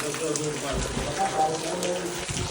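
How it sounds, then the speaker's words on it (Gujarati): Rain falls steadily outdoors at a village DJ competition in Bodeli, a continuous close hiss with some faint background sounds mixed in. "વરસાદ ચાલુ છે, દેખી લો."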